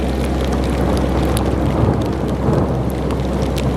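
Thunder rumbling through a thunderstorm around a narrowboat, a steady loud wash of rain and low rumble filling the whole stretch with no talk.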